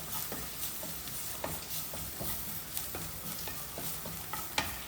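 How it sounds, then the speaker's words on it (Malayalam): Onions sautéing in a pan with a pinch of pepper powder, a soft continuous sizzle with light, irregular taps and scrapes of a spoon stirring, fairly quiet and without talk. "അതിലേക്ക് ഒരു 1/4 ടീസ്പൂണ് കുരുമുളക് പൊടി ഇട്ട് കൊടുക്കാം. അത് ഒന്ന് വഴറ്റാം."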